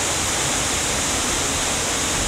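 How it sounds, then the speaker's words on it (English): Rushing water at the entrance to Banyok waterfall, a dense continuous roar heard alone at steady loud level throughout. "The entrance to Banyok waterfall."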